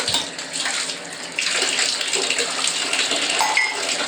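Running water splashes and rushes in a bathtub while dishes are washed, a steady close wash of water with small clinks and shifts, no voices.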